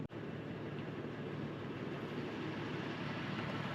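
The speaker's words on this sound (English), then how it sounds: "The noise you hear in the background is my defroster going on high." Constant loud whooshing of a car defroster fan on high fills the cabin, a steady airy roar with no variation, close by and alone.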